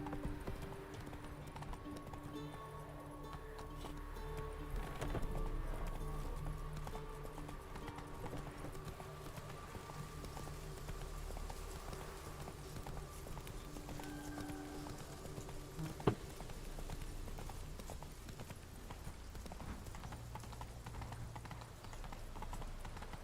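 A horse in The Witcher 3 video game gallops with steady, rapid hoofbeats under a continuous bed of game ambience and music, moderately loud throughout, with one sharp click partway through.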